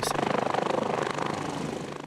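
A rescue helicopter flies nearby in Tasmania after airlifting an injured man, its rotor producing a rapid, steady rhythmic thudding that runs continuously throughout.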